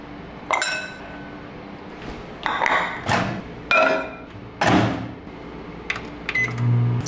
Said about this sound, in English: I like to transfer mine over to a little glass bowl just to make it a little more aesthetically pleasing